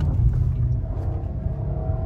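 A BMW M5 Competition pulls hard in second gear, its engine a deep, steady, fairly subdued rumble with a low drone throughout the short clip.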